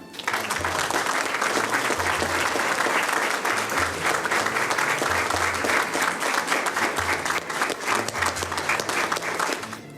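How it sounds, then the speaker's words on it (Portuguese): Loud, steady applause from an audience at a Brazilian justice yearbook launch ceremony, dense clapping that holds for about ten seconds and tapers slightly at the end. "para quem eu peço o aplauso de todos"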